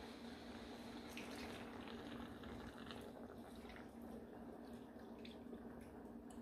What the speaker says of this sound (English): 2 1/4 cups of whole milk. Start adding that to it.